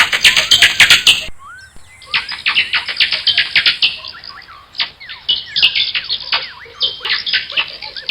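Bat calls, rapid high-pitched chirps and clicks in dense irregular bursts, close and continuous with brief pauses, no voices.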